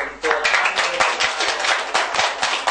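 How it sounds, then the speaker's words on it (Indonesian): An audience at an Islamic study session applauds two speakers with close, loud, sustained clapping, with a few sharper individual claps standing out. "Dan kita mari aplaus kepada kedua beliau"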